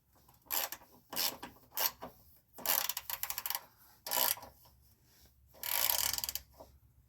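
A 10 mm fuel filter bolt on a 2021 Jeep Gladiator EcoDiesel is snugged with a ratchet: several short bursts of metallic clicking and rasping, close up and fairly loud, separated by brief pauses, with no talking.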